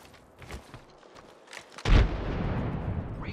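A frag grenade goes off in Apex Legends, one loud booming blast that follows a short stretch of quieter game noise and leaves a sustained rumbling tail.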